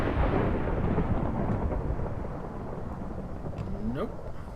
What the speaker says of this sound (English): I'm not sure where that lightning's coming from.